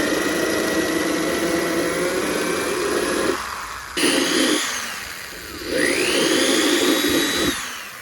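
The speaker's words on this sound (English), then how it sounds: "I'm gonna go ahead and start drilling some pilot holes and then drilling bigger holes" A power drill boring pilot holes into an engine valve cover runs loud and steady, with a whining tone that drops out briefly and then spins back up twice, no voices.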